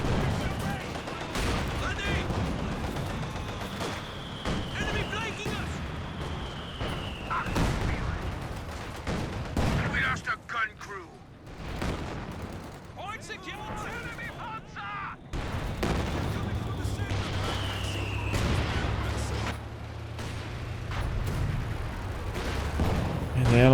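Jagdtiger tank cannon fire in Company of Heroes 2, heavy booms and crackling battlefield gunfire repeating through a dense wartime mix, with a deep engine rumble rising near the end.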